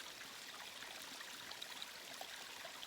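Small waterfall in a village, a steady soft rush of falling water with fine splashing and trickling, faint and continuous throughout with no voices.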